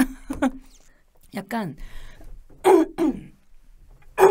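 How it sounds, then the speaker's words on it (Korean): Close, loud coughs and throat-clearing come in short bursts separated by pauses, with a brief spoken word between them. "기침 중이십니다."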